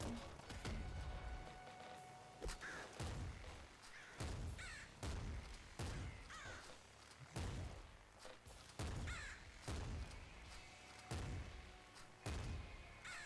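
Crows in the video game Nuclear Throne caw repeatedly over a steady game backdrop, with regular heavy thumps and bursts of gunfire punctuating the calls about once a second.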